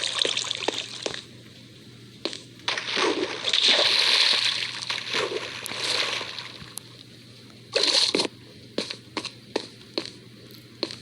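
Water splashes and sloshes in the Minecraft video game (version 1.16) while a branch mine is being dug, with bursts of splashing and trickling alongside short blocky game clicks and thuds, fairly loud and without speech.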